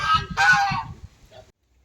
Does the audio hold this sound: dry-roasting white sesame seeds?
no